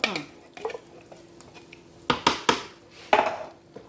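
A spoon stirring homesteader's chili in a metal pot, giving a handful of scraping, clinking strokes that grow louder and more rhythmic toward the end, close to the listener with faint sizzling underneath.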